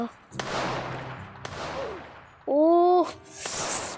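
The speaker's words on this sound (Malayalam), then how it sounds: "ഇത് പോലീസുമാർ വെടിവെക്കണേനെ." Police gunfire in a Roblox prison-escape game: sharp gunshot bursts with a brief whooshing tone and an electronic sound between shots, loud and synthetic.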